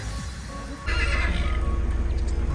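A horse gives a short whinny close by in the rain on Chamundi Hills, then a loud, steady hiss like heavy rain takes over.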